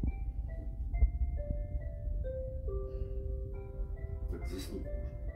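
A simple electronic lullaby melody from a Bright Stars Jungle baby bouncer plays as a steady sequence of sustained tones, moderately loud and close, over a low background rumble.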